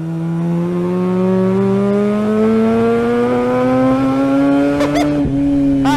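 Engine of a 1981 TWR Mazda RX7 race car, a rotary of under 1200 cc that won the Spa 24 Hours, revs loud and close in one steady rising pull, with a brief chirp near the end.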